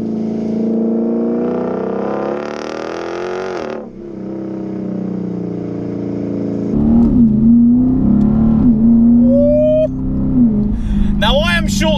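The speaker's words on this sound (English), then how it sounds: "It has got a cat-back exhaust system on it, still retaining two resonators and four catalytic converters in this system, and it sounds like an absolute rocket ship." A 460 bhp Lexus IS F V8 with a cat-back exhaust, two resonators and four catalytic converters revs and accelerates through short-shifted gears. It sounds loud and close, with rising roars, abrupt drops at each shift and a deep rumbling drone.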